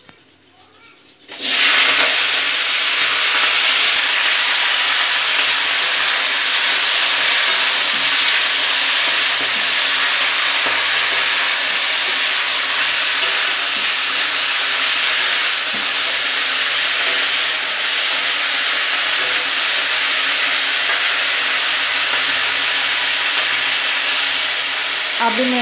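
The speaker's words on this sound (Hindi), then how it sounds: "अब मैं ऐड करने जा रही हूँ सब्जी" Mixed vegetables for a Bengali-style sabzi hit hot oil with bay leaf, dried chillies and panch phoron in a kadhai, setting off a sudden loud sizzle that holds as a steady, dense frying hiss.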